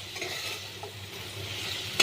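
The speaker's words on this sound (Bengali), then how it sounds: "মশলার সঙ্গে এটা সুন্দর করে আরও একটু নাড়াতে হবে।" Potatoes with spices stirred in a frying pan, a steady low sizzle running under soft scraping of the spoon, close and fairly quiet, with a brief louder clatter at the very end.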